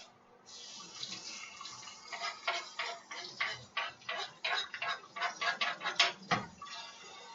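Pork rinds for chicharrones being rinsed under running water, a steady tap-like splashing with irregular pulses of water hitting the pieces, close and fairly loud, with no talking.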